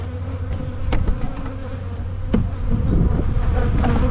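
A dense, steady drone of many honey bees buzzing close by at an open hive during swarm control, continuous and loud with occasional sharper passes of individual bees.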